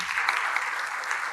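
Audience applause at the opening panel of a conference, a dense steady clapping from a large crowd filling the room, continuous throughout with no talk.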